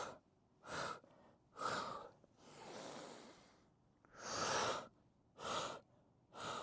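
Slow, audible breaths are pushed out during a Pilates exercise, several long exhales in a loose rhythm, close and fairly soft with quiet gaps between.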